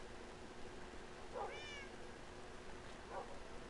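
A cat in Minecraft meows twice, a clear rising meow followed a bit later by a shorter one, over a steady background hiss.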